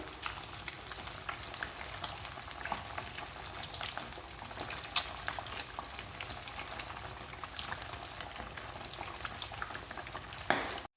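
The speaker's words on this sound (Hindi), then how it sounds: "अब हम थोड़ा सा इसको हिला लेते हैं ताकि हमारी ये फ़िश जो है नीचे चिपक ना जाए।" Marinated fish fries in a pan over medium-low heat, a soft continuous sizzle and crackle with faint stirring scrapes and a sharper clatter near the end.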